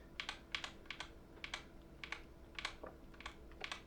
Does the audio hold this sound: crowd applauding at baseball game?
no